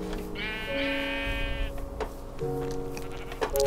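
Several sheep bleating in the Minecraft video game, two or three distinct drawn-out baas close by, separated by brief pauses with light clicking in between.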